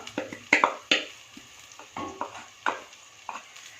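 Ground tomato paste for chana masala fries in oil with ginger-garlic paste, making a soft sizzle under a series of sharp stirring scrapes and knocks against the pan, close and irregular.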